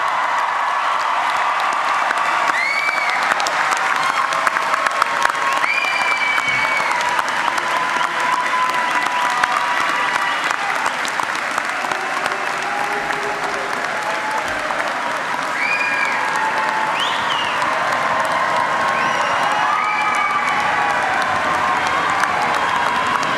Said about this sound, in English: will all the graduates please rise so we may honor you with our applause